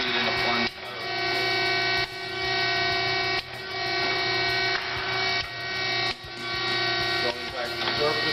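An Acer 10 x 20 inch three-axis automatic surface grinder runs in plunge mode, a steady loud electric hum with brief dips as each back-and-forth pass reverses.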